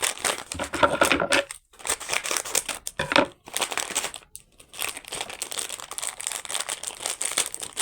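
Plastic toy packaging is torn open and handled, making loud, close crinkling and crumpling in uneven bursts with short pauses between them.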